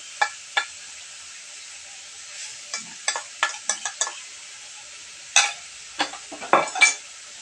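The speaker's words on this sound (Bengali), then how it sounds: "আগে দিচ্ছি হলুদ এবং মরিচের গুঁড়া পেঁয়াজ এবং রসুন বাটা দিয়ে দিব" Turmeric, chili powder, onion paste and garlic paste frying in a pan, heard as a quiet low hiss broken by sharp scraping and clinking strokes of a spoon against metal, some in quick clusters.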